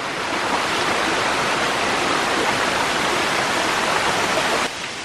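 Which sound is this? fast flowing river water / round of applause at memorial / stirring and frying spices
fast flowing river water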